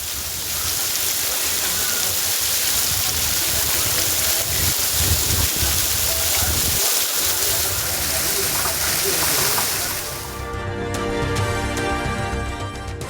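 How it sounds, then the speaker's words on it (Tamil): Rain pours steadily in Tamil Nadu's hill and western districts, a dense, loud wash of falling water lasting throughout, with musical tones joining near the end. "வானிலை மாற்றத்தால் தமிழகத்தின் சில பகுதிகளில் மழை."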